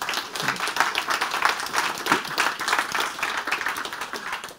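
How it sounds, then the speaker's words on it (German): An audience at an evening event on open educational resources in higher education applauds with steady, moderately loud clapping from a seated crowd, continuing evenly for several seconds before tapering off. "eben bitte jetzt auch einmal für die 4 klatschen."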